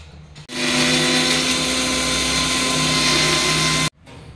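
A mixer grinder whirs loud and steady for about three and a half seconds, blending curd chutney smooth for a breadless sandwich, then cuts off abruptly. Quieter room noise is heard before and after.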